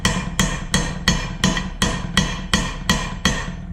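Copper pipe being hammered to texture rose petals: ten evenly spaced, sharp metallic whacks in a steady rhythm, close and moderately loud, each ringing briefly before the next.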